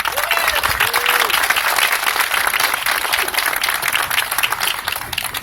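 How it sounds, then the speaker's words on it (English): Audience applause fills the air at a Cracker Barrel ribbon cutting in Bay County, a steady wash of many hands clapping outdoors for the full stretch, loud and sustained with a few faint whistles on top. "let's give them a round of applause as well"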